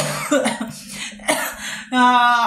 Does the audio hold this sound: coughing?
yes